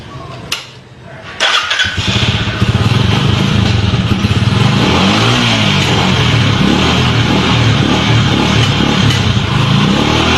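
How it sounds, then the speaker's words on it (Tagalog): A motorcycle fitted with a modified spark plug clicks, then fires up abruptly and settles into a loud, close, rough idle with uneven throttle blips. "So try natin ang tunog ng modify na spark plug."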